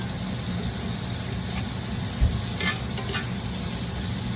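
Asparagus cooks in a hot pan with a steady, soft sizzle and hiss, a faint clink or two of a utensil partway through.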